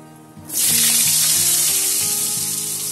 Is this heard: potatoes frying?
yes